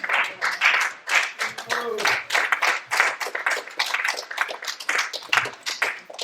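A panel audience claps in uneven bursts, the applause mixed with overlapping talk and voices rising and falling throughout.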